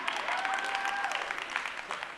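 Audience applause at a live podcast kickoff show, a dense burst of clapping and crowd noise heard close and loud, briefly filling the room.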